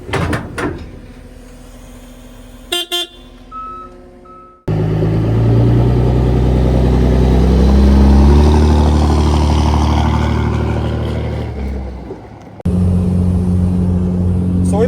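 A third-generation Cummins diesel pickup towing a trailer, heard as a loud, steady low engine drone and road rumble from inside the cab, preceded by clicks and clunks and cut off abruptly near the end.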